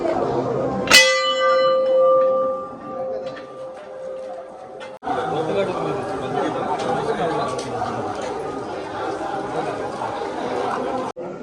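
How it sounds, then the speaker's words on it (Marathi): A large old temple bell from the Shivaji era rings once with a sharp strike and a long sustained hum, loud over a crowded Mahashivratri festival at the Shri Dev Rameshwar temple in Girye, where crowd chatter fills the background. "आता बघू शकता ही एकदम शिवकालीन घंटा आहे प्रशस्त अशी"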